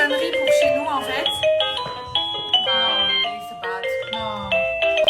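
A home doorbell ringtone is tried out, playing a bright, tinkling chime melody of quick repeated notes at close range while people talk over it.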